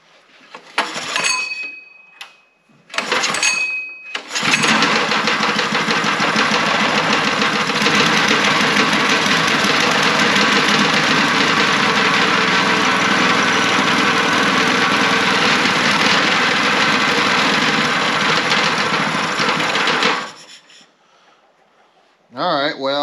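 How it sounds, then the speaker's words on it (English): Engine of an abused kinetic log splitter idling steadily after a few short stuttering start attempts, a loud, even mid-pitched drone with faint knocking that cuts off near the end. "Alright, well, it'll idle, but it's not really revving up, so."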